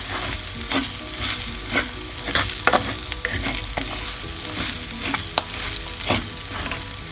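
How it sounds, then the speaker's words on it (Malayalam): Clams and onions roasting in oil in a pan over a medium flame for a Kerala-style clam roast, with a steady sizzle and repeated scraping stirs close by and no voices. "ഇങ്ങനെ ഇളക്കി ഇരിക്കണത് ഒരു മീഡിയം ഫ്ലെയിമിലാണ് നമ്മളത് റോസ്റ്റ് ചെയ്തുകൊണ്ടിരിക്കുന്നത്"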